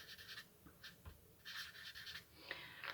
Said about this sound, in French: je vais mieux l'écrire